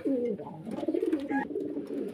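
Pigeons coo nearby in low, throaty, repeated warbling calls, overlapping one another with soft background rustling.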